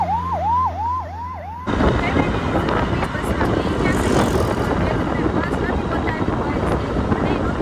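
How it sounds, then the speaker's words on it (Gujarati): An ambulance siren on a village road wails in clear rising and falling cycles for under two seconds, then gets swamped by a loud, continuous roaring rumble that buries it for the rest of the clip. "જો દાઈ એમ્બ્યુલન્સ"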